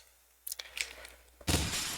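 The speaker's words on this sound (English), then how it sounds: "So that glass sound effect is..." Glass shatters in Resident Evil 4: a few light clinks and taps lead into one loud, sharp crash that breaks into a bright, lingering spray of shards near the end.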